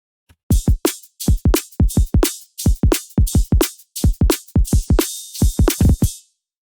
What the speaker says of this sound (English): a sound like this drum beat, for instance